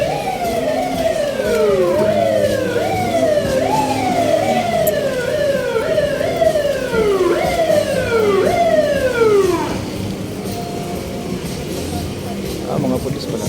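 A police car siren wails loudly on a busy Quiapo street in Manila, rapid rising and falling sweeps repeating for several seconds before stopping abruptly, with traffic rumble continuing beneath and afterward.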